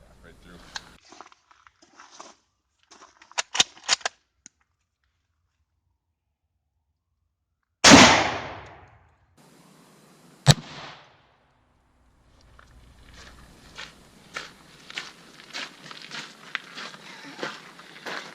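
Two rifle shots, one 5.45 and one .308, fired one after the other at a British MK6 ballistic nylon army helmet: two sharp, loud cracks a few seconds apart, the first with a ringing decay, set between quiet stretches with faint handling noise and distant voices.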